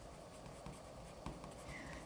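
Derwent Chromaflow colored pencil shading lightly and evenly on paper, a soft continuous scratchy rasp with small strokes, faint and close, with no voices.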